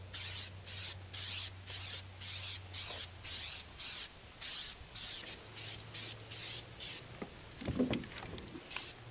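Herculiner spray-on bedliner going on as a light second coat, heard as a series of short, even hissing spray bursts with brief pauses between them, close and steady, no talking.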